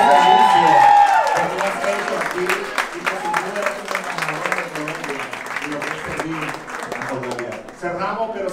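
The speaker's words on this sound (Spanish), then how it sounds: "quiero que recibas este aplauso del público de Colombia por 28 años de servicio" Audience applause at an award ceremony in Colombia, a broad steady clatter of many hands clapping that carries through the whole stretch, loud and close, with a brief tone at the start.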